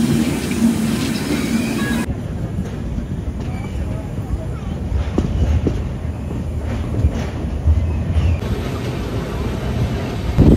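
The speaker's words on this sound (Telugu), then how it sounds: "correct train అడ్డుకొచ్చింది" A train rumbles past steadily and loudly, a continuous rolling roar with wind buffeting throughout.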